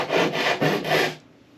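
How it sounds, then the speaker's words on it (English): Hacksaw blade cutting through a wooden cutout, four quick rasping back-and-forth strokes close up, then stopping. "I'm just going to go to town with a hacksaw blade."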